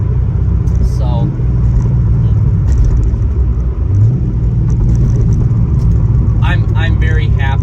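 A 2005 Corvette C6 base model with the 3LT package cruising on a road, a steady low engine and road rumble running throughout beneath a voice talking over it.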